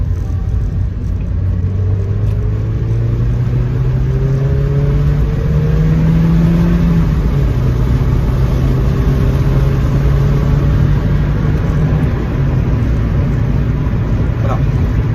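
Mazda MX-5 engine revving with the windows open, a steady mid-pitched drone with rising and falling sweeps from throttle changes, loud and close, running throughout the drive.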